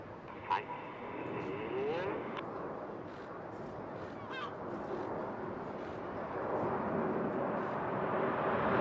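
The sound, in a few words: Red Arrows jet aircraft flying in formation at airshow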